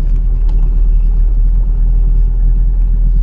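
Citroën Traction 11 BL engine running steadily close by, a constant low rumble and mid whir with gentle throttle as the old car moves off, no voices over it.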